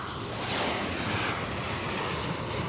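Boeing 747 airliner at Amsterdam Schiphol, a dense continuous jet roar, loud and close, holding steady without talk.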